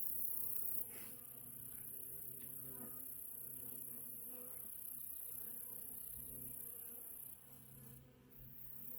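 Honeybees in a backyard hive with pollen patties buzz in a steady, dense drone, close and continuous with no talking.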